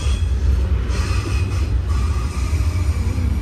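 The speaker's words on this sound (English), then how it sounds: "there goes our train on the outside" An iron ore train rolls past outdoors with a loud, continuous low rumble of wagons and faint metallic wheel squeal above it, with no voices.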